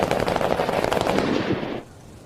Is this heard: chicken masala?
no